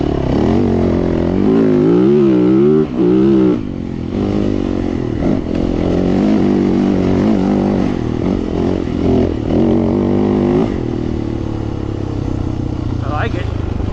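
A Yamaha YZ450F motocross bike bought at auction runs loud and close, its engine revving with a wavering pitch before settling toward a steadier idle, with a voice faintly audible over it.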